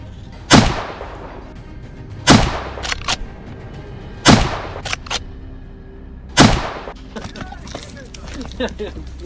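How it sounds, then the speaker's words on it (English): Four loud, sharp hunting-rifle shots fired at a wild boar ring out about two seconds apart, each cracking close and then decaying into a brief echo outdoors. "My first shot struck its shoulder."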